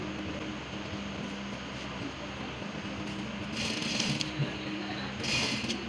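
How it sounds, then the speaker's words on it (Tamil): Steady mechanical whirring of a sewing machine stitching a laptop bag, with two louder bursts of faster stitching toward the end, heard close and moderately quiet. "நான் பேக் சைடு ஸ்டிச் பண்ணிட்டு இருக்கேன்."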